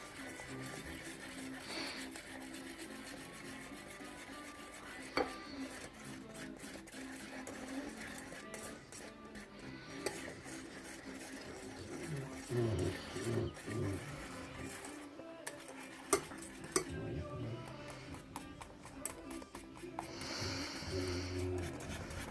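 Gelatin jelly puppy food being stirred as it melts in a pan, giving a steady scraping, rubbing texture with occasional clinks of the utensil against the pan, continuous and fairly faint.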